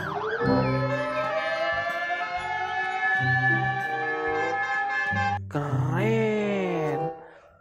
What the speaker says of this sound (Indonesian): kalau yang ini adalah si mobil pemadam kebakaran, teman-teman.